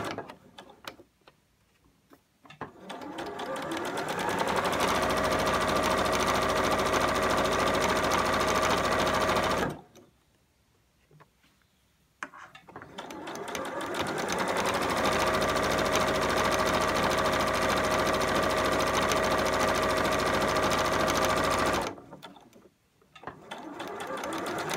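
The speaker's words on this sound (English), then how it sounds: "so I'm just going to go slower through the machine." A sewing machine stitches slowly through a lumpy spot where several seams of a scrubs uniform bag overlap, running in two long, steady, close mechanical bursts separated by a short pause.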